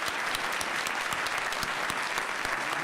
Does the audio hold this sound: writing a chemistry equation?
no